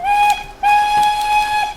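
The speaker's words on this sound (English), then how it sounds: "steam whistles," A steam whistle blows two steady, shrill blasts, the first short and the second longer, loud and close with a brief gap between them.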